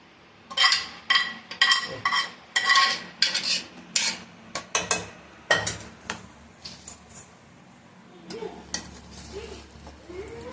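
Minced chicken for kari vadai is mashed and mixed in a bowl, producing a close series of wet squelches and utensil clinks in an uneven rhythm, thinning out toward the end over a low kitchen hum.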